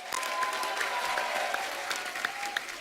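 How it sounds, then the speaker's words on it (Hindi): Studio audience on The Kapil Sharma Show applauding a guest's entrance, a dense, steady wash of clapping that fills the room at moderate volume, with no one speaking over it. "आप सबकी जोरदार तालियों के साथ प्लीज वेलकम"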